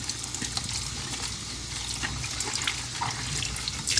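Tap water runs steadily into a sink while small seed-starting pots are rinsed after a wash with soap and water, a continuous close splashing stream with no voices.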